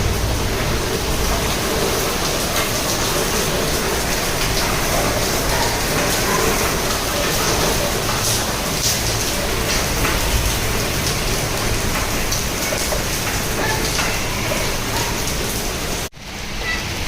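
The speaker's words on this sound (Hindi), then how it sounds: "ये देखिए होने लगी झमाझम बारिश" Heavy monsoon rain pours down outside a home in a dense, loud, unbroken roar of drops that holds steady throughout, with no voices.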